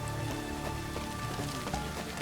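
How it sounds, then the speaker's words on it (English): Rain falls steadily in the video game Witcher 3, a soft continuous patter on surfaces with no talking. "Yeah, it's just raining now."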